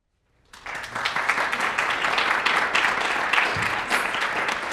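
An audience at a talk on building a better food system bursts into applause after a brief silence, and the clapping stays full, dense and sustained to the end.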